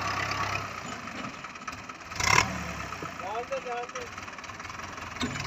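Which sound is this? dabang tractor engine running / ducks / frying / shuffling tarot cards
dabang tractor engine running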